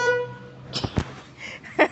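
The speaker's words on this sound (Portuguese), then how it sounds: "Através do botãozinho nós temos buzina agora" A brief, buzzy Volkswagen Beetle horn toot, triggered by a makeshift button, sounds at the start, followed by a few clicks and thumps of handling nearby.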